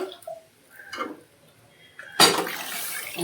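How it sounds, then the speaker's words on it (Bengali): Water is poured into a pot of cooking biulir dal (urad lentils) in a Bengali home kitchen. A few soft clinks come first, then a loud, close, rushing pour that continues to the end. "আর একটু জল দিচ্ছি।"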